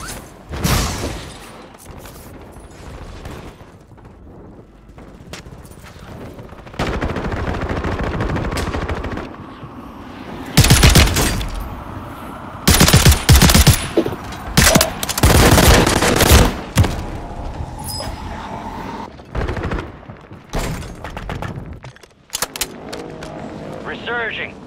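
Call of Duty machine gun fire comes in loud sustained bursts between quieter stretches of game ambience, with sharp clustered volleys in the middle and a voice speaking at times.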